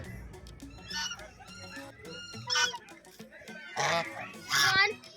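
White swans give loud nasal honking calls in several bursts, some overlapping, with softer voices murmuring in the background.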